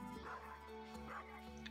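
Marnie's dog in the Stardew Valley video game gives repeated yipping barks over steady game music, clear and close.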